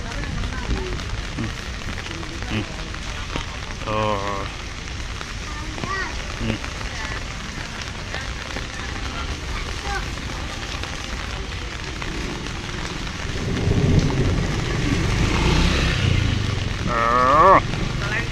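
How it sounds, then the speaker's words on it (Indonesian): Rain pours steadily while voices talk nearby, and a deeper rumble swells louder near the end. "Hujan."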